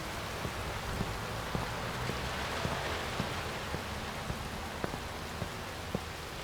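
Steady rain falls over a night-time Chicago street in the video game Watch Dogs, a dense even hiss with scattered sharper drops and taps landing near, continuous throughout with no voices.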